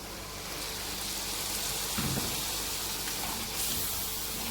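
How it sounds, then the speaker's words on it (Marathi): Hissing, splashing rush of water poured into a hot pan of corn curry, with a sizzling burst around the middle and steady broadband noise throughout. "यात आपल्याला घालायचं आहे थोडंसं पाणी"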